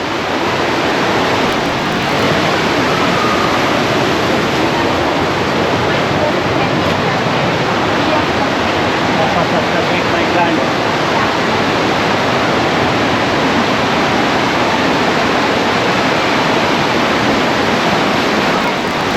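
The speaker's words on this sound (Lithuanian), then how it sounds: "Labai gražiai vanduo krenta iš viršaus ir saulė pagauna." Water falling steadily through the Partnach gorge near Garmisch, a continuous loud broadband rush of cascading water that fills the whole scene without pause.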